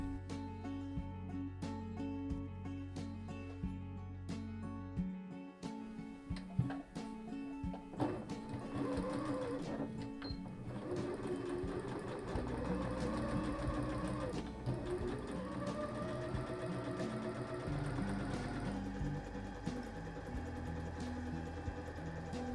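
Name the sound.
sewing machine stitching jacket sleeve seam allowances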